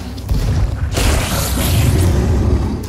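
A bomb blast in a video game, a loud booming explosion with a sharp burst near the one-second mark that rumbles on through the rest of the short clip.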